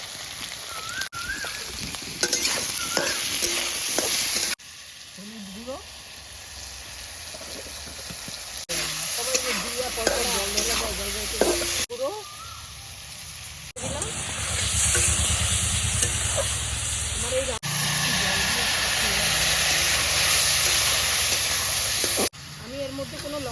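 Whole spices temper in hot oil for a bata fish curry with bottle gourd stems, sizzling and hissing in bursts as ingredients go in, under a voice talking throughout.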